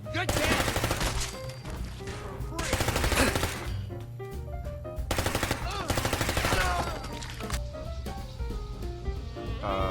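Gunfire from gunners in Fallout 4, with bursts of rapid shots in loud repeated volleys over a dense game soundtrack and effects, fading between bursts.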